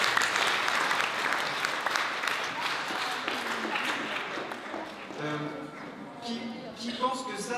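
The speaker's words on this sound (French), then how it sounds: "Je sais pas si on peut applaudir monsieur Gustave" An audience at a youth theatre festival inauguration applauds in a dense, sustained burst of clapping that thins toward the end as a voice begins speaking over it.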